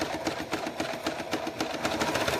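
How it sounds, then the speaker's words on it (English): Sewing machine stitching a paper-pieced snowman quilt block, a steady fast mechanical whir with rapid needle pulses, close and continuous with no voices. "So I'm just sewing along that line"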